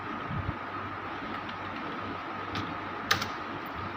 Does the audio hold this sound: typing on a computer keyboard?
yes